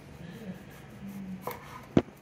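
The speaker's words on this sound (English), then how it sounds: "So we're going to start off by cutting the cucumber." Babish chef's knife slicing a cucumber into thin slices on a cutting board, soft scraping strokes followed by a few sharp close taps against the board.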